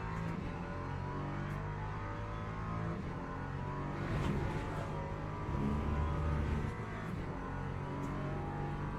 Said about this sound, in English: we're enjoying the Ginetta LMP3 and the Paul Ricard